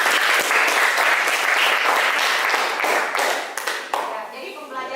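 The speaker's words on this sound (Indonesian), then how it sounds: "Tepuk tangan dulu" Students in a classroom applaud together, giving dense, sustained clapping that stays loud for several seconds and then thins out toward the end.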